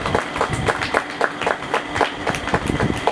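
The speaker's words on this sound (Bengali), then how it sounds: "একটু হাততালি দেবেন।" Audience clapping at a blood donation and cultural competition prize ceremony, a dense, steady patter of many hands lasting the whole moment, loud and close with no speech over it.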